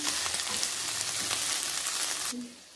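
Food frying in olive oil for a chicken and vegetable chow mein crackles in a steady, dense sizzle close up, then abruptly drops to a quieter hiss near the end.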